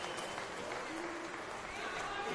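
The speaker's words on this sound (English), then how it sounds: "Goal scorer George Antonis is coming off to applause." A crowd at a men's NPL soccer match between Sydney Olympic and Blacktown City applauds a substitution as the goal scorer leaves the pitch, a steady diffuse clapping under a commentator's voice.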